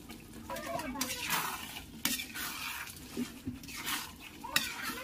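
Chilli chicken with special spice powder being stirred in a home pan, giving repeated scraping and clinking strokes of a spoon against metal, moderately close, over a soft sizzle, with faint voice in the background.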